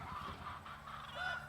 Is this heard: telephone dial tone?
no